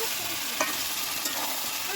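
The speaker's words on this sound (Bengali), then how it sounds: "ওই দেখ তেল ফুটতেছে" Oil bubbling and hissing in a pan over a wood fire, a dense continuous sizzle close up with a couple of faint clicks, no one speaking.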